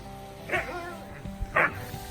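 A dog gives two short, fairly close barks about a second apart, over a faint background hum.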